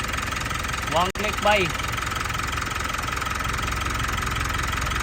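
A 2017 Mitsubishi Montero with a misfiring engine idles with a steady mid-pitched hum and a faint uneven pulse, heard close, while someone briefly speaks over it near the start.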